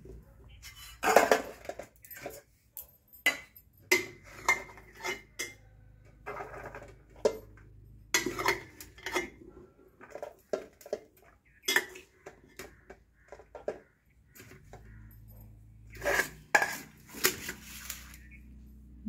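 Serving spoonfuls of cooked controlled-ration rice onto a plate at home, with a series of light metallic clinks and scrapes of a spoon against dishware in short bursts, fairly close, with no talk.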